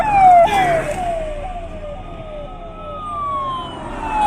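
An ACLS ambulance siren wails loud and close in repeated falling sweeps, rising again after each one, over faint traffic rumble.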